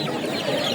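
Chickens at a rural poultry market of ducks and hens cluck continuously and close by, a dense crowded fowl noise with no talk.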